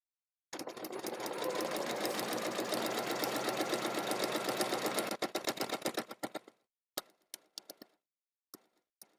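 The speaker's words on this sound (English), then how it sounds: "I'm going to sew through the seam allowance, or start outside of the seam allowance" A sewing machine runs steadily through a fabric seam allowance for several seconds, then slows into short separate bursts of stitching and a few isolated clicks near the end, close and clear with no talking.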